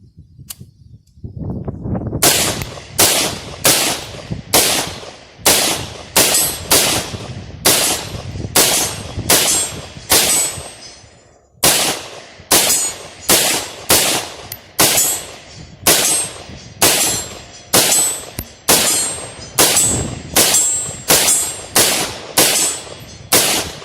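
Rifle fire from a 300 Blackout rifle with a 6.5 inch barrel shooting steel case ammunition, loud and close: about thirty sharp shots at a steady pace of roughly one every second or less, with one brief pause midway and no talking.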